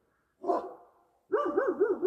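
Dogs bark at bears: a single sharp bark, then a louder, sustained run of wavering, howling barks close by.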